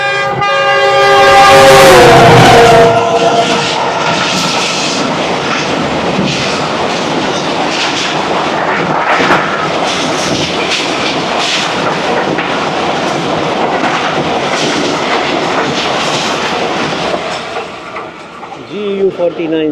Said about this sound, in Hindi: 46 डाउन पाकिस्तान एक्सप्रेस बहुत तेज़ रफ्तारी से गुजर गई